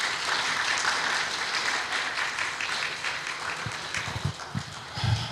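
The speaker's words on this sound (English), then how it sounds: "would you please give them a round of applause for their work?" Congregation applause at a church congregational meeting, steady broadband clapping that fills the room throughout and thins slightly toward the end, with a few louder claps standing out near the close.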